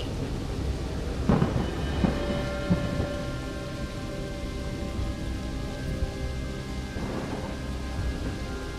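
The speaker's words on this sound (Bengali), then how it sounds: "আজকে তো অনেক জোরে ঝড় বৃষ্টি হচ্ছে" A thunderstorm with steady heavy rain, a loud thunderclap cracking early on and low rumbling rolling through; no one speaks.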